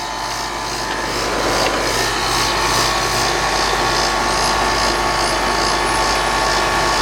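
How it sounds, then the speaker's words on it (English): A pool heater's scroll compressor runs with a loud, steady mechanical drone and a rhythmic pulsing hum, continuous throughout with no talking. "Scroll compressor."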